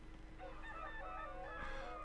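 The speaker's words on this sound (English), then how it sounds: "Cock-a-doodle-doo." A short fowl call in the Minecraft TerraFirmaPunk modpack, a single rooster crow rising and falling over about two seconds, faint and distant over a low background hum.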